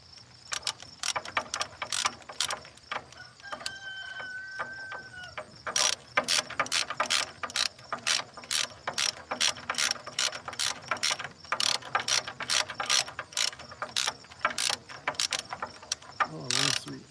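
A ratchet wrench torques down a bolt on a Massey Ferguson tractor, giving long runs of sharp, steady clicks from close by. A few short pauses break the runs, and there is no talk.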